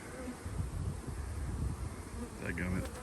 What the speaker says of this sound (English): stupid wasp